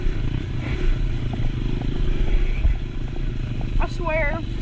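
A dirt motorcycle climbs a single-track mountain trail in first gear, its engine chugging low and close amid clattering over rough ground, with a voice speaking over it.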